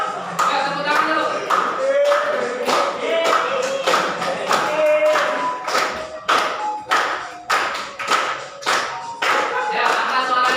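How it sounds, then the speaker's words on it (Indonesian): A class of students in an economics lesson claps hands in a rhythmic pattern, sharp regular claps alongside singing voices following a tune. "Ayo tepuk tangan dulu."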